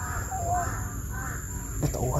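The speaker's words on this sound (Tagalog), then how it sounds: "May ibon." A crow caws a few times at moderate distance outdoors, its harsh calls mixed with nearby voices.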